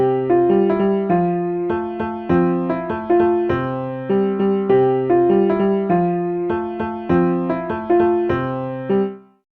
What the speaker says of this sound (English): So now, this first pattern with these triplets, this one here and this one here, sounds like this.